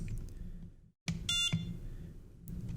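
A short electronic beep from a Samsung UV sanitizer and wireless charger rings out clearly, a couple of bright tones close by, with a low hum continuing underneath.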